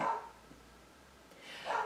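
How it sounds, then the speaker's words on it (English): A dog barks twice, about a second and a half apart, muffled and somewhat distant, as if from another room, with quiet room noise in between. "oh, dogs, that's Honey barking, but there's no one there"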